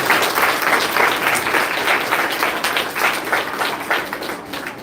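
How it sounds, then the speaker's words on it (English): An audience at a Year 6 school transition ceremony gives a big round of applause for the teachers, lively dense clapping close and loud that gradually fades toward the end. "Can we give them all a big round of applause?"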